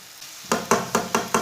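A spoon stirs egg and green peas masala in a pan over medium heat, giving five evenly spaced, clear knocks against the pan over a soft sizzle.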